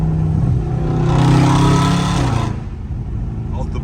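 A catless Dodge Scat Pack's exhaust roars loudly past in a fly-by, swelling to a peak and then dropping away after a couple of seconds, with a faint rumble and some background clatter remaining.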